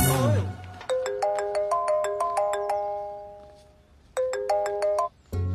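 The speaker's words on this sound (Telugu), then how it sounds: "ఫోన్ వచ్చిందండి." A phone ringtone for an incoming call, a bright looping electronic melody of repeated chimes that plays twice with a short gap, loud and close, after a brief burst of voices at the start.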